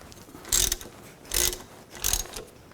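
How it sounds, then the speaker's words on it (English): A ratchet with a 12mm socket loosens rear brake caliper bolts on a 2000-06 Chevy Tahoe, giving three distinct bursts of rapid clicking spaced about a second apart, close and fairly loud, with no talk. "Now we can take these caliper bolts out. I'm going to use a 12mm socket, loosen those up."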